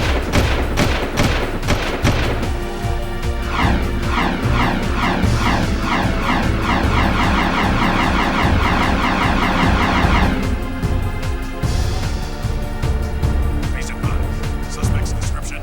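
A Crimson Guard Zoomer hover vehicle in the video game Jak II, a constant engine whine under rapid bursts of weapon fire and busy game effects, loud and continuous throughout.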